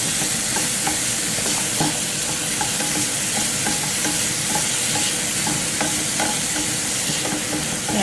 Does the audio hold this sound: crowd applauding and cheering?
no